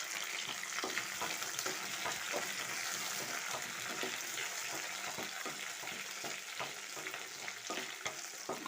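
Chopped ginger and curry leaves fry in hot oil, giving a quiet, steady sizzle with frequent small crackles and light stirring taps.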